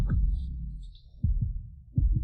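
A fast heartbeat sound effect, deep close thumps in quick pairs, separated by short gaps, with faint high tones in the background and no talk.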